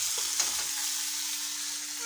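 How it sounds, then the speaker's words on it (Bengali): A hilsa fish head fries in a pan until crisp, giving a soft, continuous sizzle with a brief stir or clatter near the start, quiet and close. "এটা আমি সুন্দর করে একটু ভেঙে একটু কড়কড়া করে ভেজে নেব"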